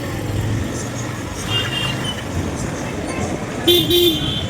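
Road traffic rumbles at a four-road junction on a town stretch of National Highway 565, with a couple of short car horn toots, one near the end louder and closer, while a voice talks over it.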